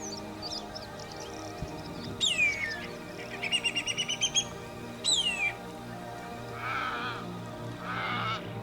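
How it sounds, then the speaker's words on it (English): Welcome swallows call in the Lake Eyre Basin of the Australian outback while gathering mud for nests, giving short bursts of quick, high twittering chirps, one a rapid run of pulses, over a soft steady background. "Welcome swallows gather mud to build nests."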